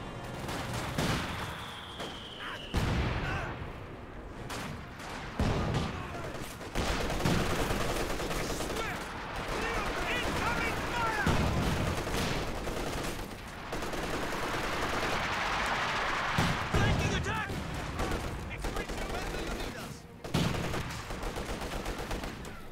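Company of Heroes 2 battle with an artillery barrage and rapid gunfire: dense, continuous machine-gun bursts and scattered explosive thumps roll on throughout, fairly loud and busy, with no voices.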